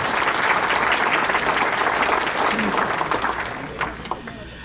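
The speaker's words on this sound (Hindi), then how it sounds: "आइए इस्तकबाल कीजिए भरपूर तालियों के साथ मोहतरमा सुरुचि अलग।" Hearty applause at a classical music gathering welcomes a performer, a full, sustained burst of clapping from the audience that thins slightly and tapers near the end.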